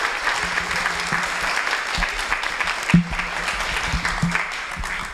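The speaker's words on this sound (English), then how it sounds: "So I think we can applaud for" Sustained audience applause fills a conference banquet hall, dense steady clapping from many hands with a sharper clap or two standing out, no speech over it.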